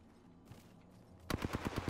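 Rapid automatic gunfire from the Apex Legends battle royale game begins partway through, a loud string of about eight evenly spaced bursts following a quieter stretch of low game ambience.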